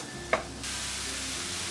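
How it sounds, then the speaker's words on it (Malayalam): Sliced onions with green chilli, curry leaves and salt sautéing in a pan: a single utensil clink, then a steady, close sizzle that holds evenly to the end. "ഈ ഒരു സവാള നല്ലൊരു സോഫ്റ്റായി വരുന്നത് വരെ ഒന്ന് വഴറ്റിയെടുക്കണം."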